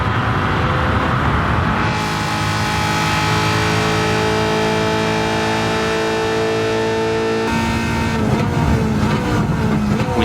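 The Garage 56 NASCAR Camaro ZL1 race car runs flat out down the Mulsanne straight at Le Mans, its engine loud and close, climbing steadily in pitch with a brief upshift before revving on.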